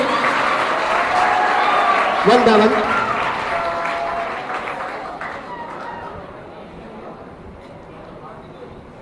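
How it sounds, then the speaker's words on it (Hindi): A school audience applauds the winning team at the TechKnowBee 3.0 quiz match at Shamsi School. The clapping is loud and dense at first, then fades steadily while a voice speaks over it. "ये आपके चैंपियंस हैं, इनके लिए तालियों की गूंज बहुत ज्यादा होनी चाहिए।"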